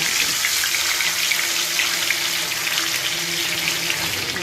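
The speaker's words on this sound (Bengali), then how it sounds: "মাছের মাথাটা ভালো করে ভাজতে হবে" Fish head frying in hot mustard oil for a Bengali moong dal dish, giving a steady, loud, even sizzle and hiss that holds without a break, with no talking over it.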